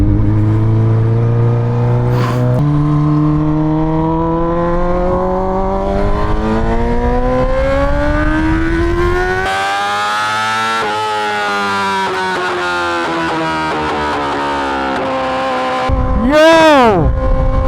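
Straight-piped 2020 Yamaha R6 sport bike revving hard, its exhaust note climbing steadily then dropping, with a final sharp rev spike and crackling pops, loud and close throughout.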